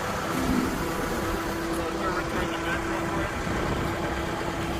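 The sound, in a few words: Caterpillar 910 wheel loader engine as it is driven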